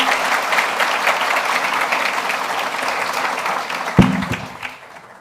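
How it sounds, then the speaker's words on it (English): Sustained audience applause fills a conference hall after a master lecture, steady and dense, with a sharp thump near the end as the clapping tapers off and fades. "I'll invite everybody to give a last round of applause to Professor McMahon."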